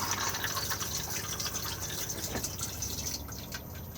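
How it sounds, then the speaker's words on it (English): A Thetford cassette toilet in a Swift Escape 664 caravan flushes with a steady rush of water filling the bowl for about three seconds, then tapers off, close and fairly loud. "and then push to flush just here"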